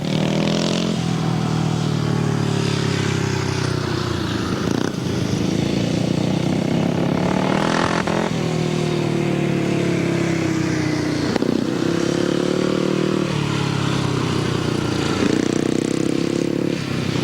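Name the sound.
grasstrack racing motorcycles, J.A. Presswich JAP bike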